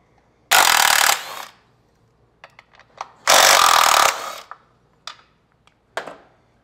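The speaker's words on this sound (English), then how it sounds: "We're gonna start by removing the primary chain tensioner, then we're gonna remove the compensator," A power tool removes the primary chain tensioner from a motorcycle drivetrain in two loud, close bursts of roughly half a second and nearly a second. Scattered metallic clinks and taps of parts and tools follow each burst.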